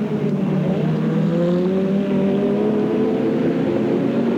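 A B&H BMW touring car, number 25, racing downhill off Corporate Hill at Eastern Creek in the 1992 Australian Touring Car Championship: a loud, close engine drone holds a steady pitch that slowly climbs, with no voices.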